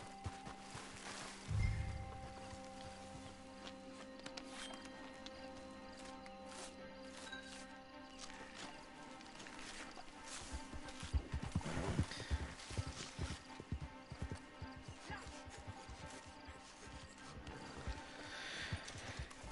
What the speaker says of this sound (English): Obviously it's completed naturally because I've been riding my horse.